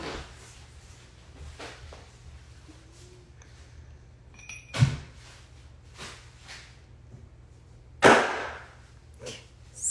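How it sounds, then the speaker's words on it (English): Two sharp pops of packing material stand out against a quiet room, one near the middle and a louder one near the end, with faint rustling and clicks between them. "My kids love popping all of the packing materials that come"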